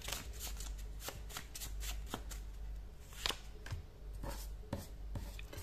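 A deck of tarot cards is shuffled up close in quick, crisp riffling bursts and sharp slaps, repeating irregularly throughout.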